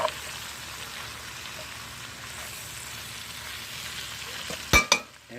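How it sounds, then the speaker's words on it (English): Bacon frying with garlic and ginger in a pan, a steady close sizzle throughout, with a brief scraping clatter of stirring near the end. "now that the garlic, ginger, and everything is in, and it's in there with the bacon, let's give that a little stir"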